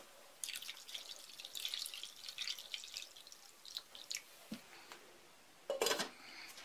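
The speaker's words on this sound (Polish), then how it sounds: "Teraz ustawiam słoiki i wlewam ciepłą wodę." Warm water splashes and trickles in short bursts as it is poured into a metal pot holding glass jars of meat, with light clinks of glass against the pot, fairly close and without talk.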